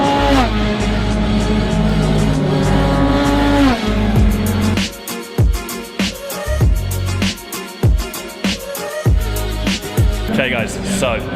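Race cars lapping Snetterton circuit: a loud engine note climbs in pitch and then drops away, followed by choppy bursts of revving and passing cars, with people talking over the noise.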